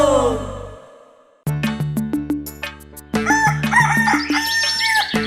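A cartoon rooster in a Malayalam children's rhyme crows loudly and clearly, then lively music with plucked notes and drums takes over.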